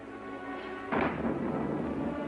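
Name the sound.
thunder during a storm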